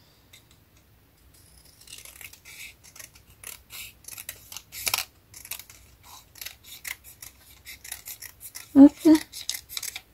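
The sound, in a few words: scissors cutting paper for a safari album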